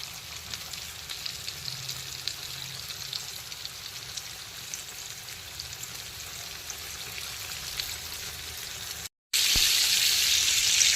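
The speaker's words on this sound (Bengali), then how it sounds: "তো চিকেন ড্রামস্টিকের একটা দিক ভেজে নিয়েছি" Chicken drumsticks frying in hot oil for KFC-style fried chicken give a steady, close sizzle with fine crackling throughout, briefly cut off, then returning louder and brighter.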